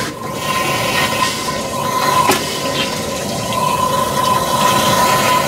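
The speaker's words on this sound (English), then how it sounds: "I'll flush the toilet" A toilet flushing in an off-grid home supplied by a cistern, a steady rushing of water close by that holds at a constant level without a clear finish, with no talking.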